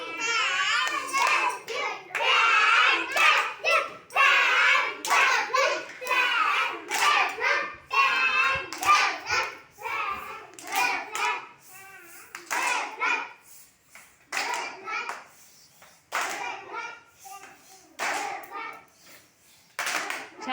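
A class of first-grade children claps their hands in a classroom during a word-building lesson. The clapping comes in repeated bursts mixed with lively voices and talk over roughly twenty seconds.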